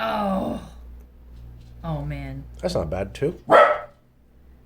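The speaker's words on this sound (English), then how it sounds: "Sorry about the dog barking." A dog barks several times in short bursts at close range around a cast iron pot pie being cooked, with someone talking over and between the barks.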